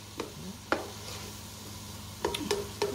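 Onions and peppers sizzle softly in a pan while cooking, with a few sharp clinks and scrapes of stirring scattered over a faint, steady fry.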